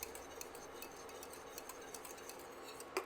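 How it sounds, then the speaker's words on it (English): A whisk taps and scrapes lightly in a pot as vanilla extract is stirred into steaming cream with sugar, faint rhythmic clinks with a soft metallic ring. "Next, you're going to add half a teaspoon of pure vanilla extract and just whisk that in"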